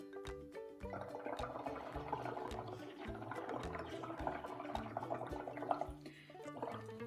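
Someone blows through a straw into a watery paint mixture, a sustained bubbling and gurgling that keeps going for several seconds at close range with short pauses. No one speaks over it.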